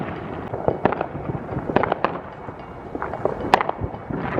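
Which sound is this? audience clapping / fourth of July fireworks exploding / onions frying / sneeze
fourth of July fireworks exploding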